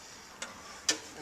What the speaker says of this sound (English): I'm going to get my torque wrench and just get them down to the right foot-pounds